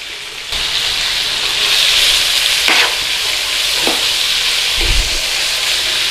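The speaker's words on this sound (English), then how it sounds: "We can put a little bit of colour on there, sear a little bit of colour on there" Lamb sears in a frying pan for a Lancashire hotpot, giving a steady, loud broadband sizzle that holds throughout, with a few brief scraping stirs and a low thump near the end.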